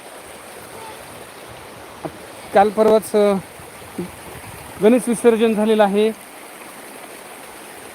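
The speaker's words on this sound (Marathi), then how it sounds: "पाणी ओव्हरफ्लो होत आहे या ठिकाणी" Water spilling over at an open swimming spot makes a faint, continuous hiss beneath someone talking.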